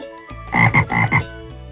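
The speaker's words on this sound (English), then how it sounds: "Frog." A frog croaks four times in quick succession, loud and close, short throaty pulses in a steady rhythm with no voices or other sounds around them.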